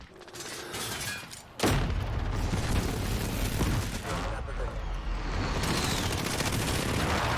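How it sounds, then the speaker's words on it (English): Precision airstrike explosions in Call of Duty Modern Warfare on PS4, a sudden loud booming onset followed by sustained rumbling blasts and gunfire-like crackle that continue to the end. "Precision airstrike inbound."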